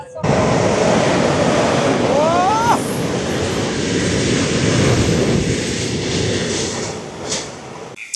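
A train running toward Monza station in Italy, on a journey billed as the Bernina Express, gives a steady loud rumble from inside the carriage, with a brief rising whistle-like squeal and a few clunks.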